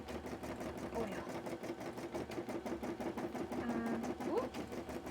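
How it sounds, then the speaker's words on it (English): A cosplay embroidery machine stitches in a fast, steady mechanical rhythm, its needle thumping repeatedly up close while a person talks over it. "I think my embroidery machine will win."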